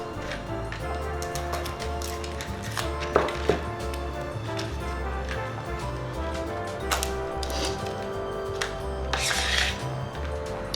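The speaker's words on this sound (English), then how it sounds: "Then I'm gonna cut off this end and the top and peel the skin off." A knife cuts and peels a garlic clove in the kitchen, with quick, close taps on the board under a steady layer of background music.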